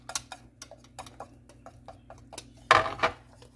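A wire whisk works dough in a bowl for a Tuscan Dutch oven loaf, making light, regular clicking and tapping strokes against the bowl, closing with a louder scraping clatter.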